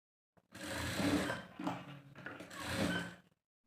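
A sewing machine stitches sharara pants fabric in two slow, close bursts of whirring needle motion separated by a short pause, fairly quiet with no talk.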